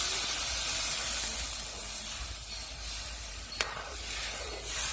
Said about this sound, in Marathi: आपला सगळा मसाला एकदम व्यवस्थित परतलेला आहे आणि आपल्याला आदनासाठी पाणी टाकायचं आहे त्याच्यामध्ये